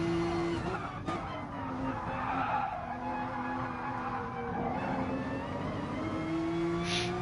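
Porsche race car heard from onboard in a racing video game on the Dragon Trail circuit, engine droning steadily up and down through gear changes with brief tire skids, loud and close, no talking.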